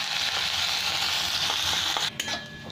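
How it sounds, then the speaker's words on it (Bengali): Chopped onion frying in hot oil in a wok with a dried red chilli and cumin seeds, a steady loud sizzle running throughout, with a few faint stirring clinks near the end. "এখানে আমার পেঁয়াজটা ভাজা হয়ে গেছে"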